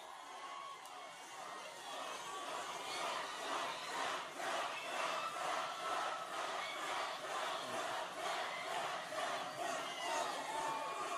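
Large crowd cheering and chanting at a presidential campaign rally in Colorado Springs, a distant, sustained roar with rhythmic pulses of chanting, heard from far off.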